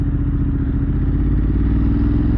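Motorcycle cruising along an open road on a nice day, a loud, steady engine drone with rumbling wind and road noise, holding an even pace without revving changes.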